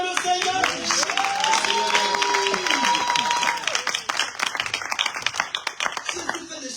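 A church congregation clapping and acclaiming the Lord in loud, dense applause with cheering voices and sustained vocal cries, thinning into scattered individual claps near the end.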